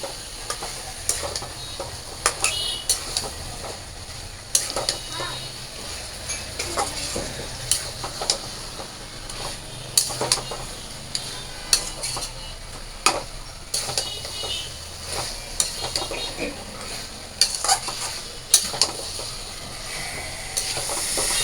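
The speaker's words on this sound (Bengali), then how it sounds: "তো মাংসটার সাথে আমি ভালো করে কষিয়ে নিই" Meat browns in a spiced masala in a pan, producing a close, steady sizzle broken by frequent sharp scrapes and knocks of a spoon stirring.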